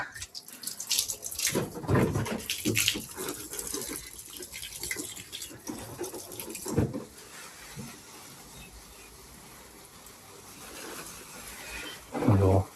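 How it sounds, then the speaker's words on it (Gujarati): Water runs from a tap in bursts of splashing, with a person talking in between and a quieter steady trickle later on. "હવે પાણી તો આવી ચાલુ થઈ ગયેલું"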